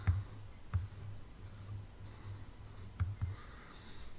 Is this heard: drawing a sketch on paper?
yes